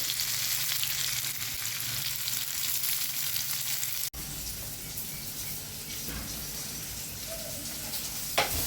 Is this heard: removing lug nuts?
no